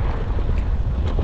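Constant low wind rumbling and buffeting against the microphone, a steady roaring gust with no talking, outdoors on a windy day.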